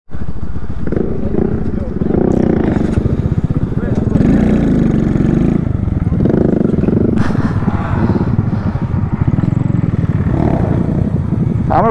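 A Honda Grom minibike motorcycle rides close by on the strip, its engine droning loud and rising and falling in revs, with people talking over the noise.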